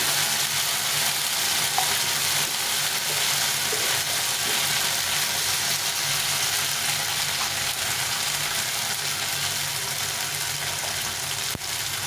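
Spices fry in a pan while being worked over, a constant dense hiss holding at an even level the whole time, with faint stirring scrapes underneath and no voice.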